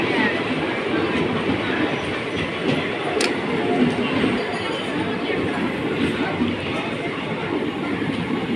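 A moving passenger train heard from inside a sleeper coach, from Tenali to Tirupati: a loud, constant rumble of wheels and rattling carriage noise continues throughout, with faint clicks and a brief sharp metallic tick.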